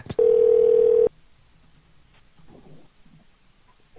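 A telephone dial tone sounds right after a call is hung up, a steady loud tone lasting about a second, then quiet handling noises and faint rustles.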